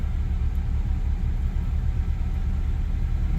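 A 2004 Honda Accord engine idles just after starting, a steady low rumble with a constant hum, loud and close, running evenly with no voices.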